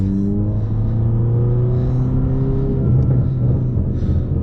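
An automatic Ford Mustang engine revs steadily up close in a low, droning rumble with rising tones, held in one gear without a shift.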